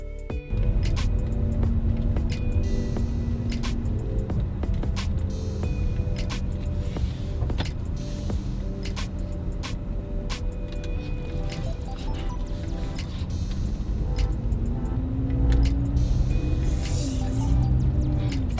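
A Camaro drives slowly around a residential block, its engine a steady low rumble with road noise and occasional clicks and rattles throughout, no talking.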